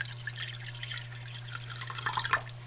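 Water is poured into a bowl while making a rose hydrosol for skin care, a light, steady trickle with scattered splashy drips over a faint low hum, fairly close and soft.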